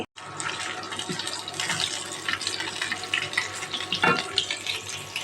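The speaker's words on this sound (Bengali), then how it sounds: "এখন আমি বাকি মাছ বাকি মাছগুলো ভাজবো" Fish fries in a pan with a continuous moderate sizzle and crackle, broken by a few louder spatters and clinks near the end.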